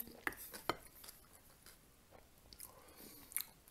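Cutlery clinks against a plate in a few sharp taps, with soft chewing and crunching of fresh cabbage salad between them, close and quiet at a home meal.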